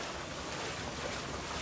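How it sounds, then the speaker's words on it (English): Steady rushing water from a waterfall some distance off, a constant broadband roar with wind buffeting the microphone and no talking. "There's a waterfall over there."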